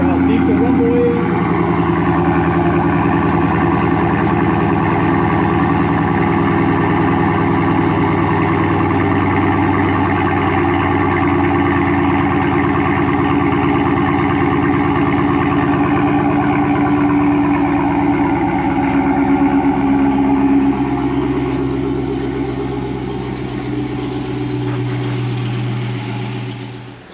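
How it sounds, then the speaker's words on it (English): Deep, steady idle rumble from a 2021 Dodge Charger Hellcat's aftermarket exhaust, close and loud, holding for the whole stretch and easing slightly near the end, with someone talking over it. "You can hear how deep the rumble is."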